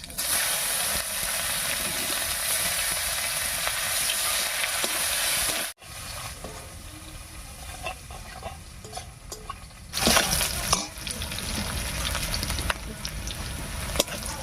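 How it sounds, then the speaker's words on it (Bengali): Chopped onion with whole cumin fries in hot mustard oil in a kadai, a steady close sizzle with scraping stir strokes, briefly cut off and then returning louder near the end. "পেঁয়াজটা ভাজা ভাজা হয়ে গেছে"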